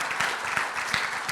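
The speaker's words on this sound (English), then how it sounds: "We'll give them a round of applause" An audience applauds steadily, a short burst of clapping at moderate distance, heard on its own without talk.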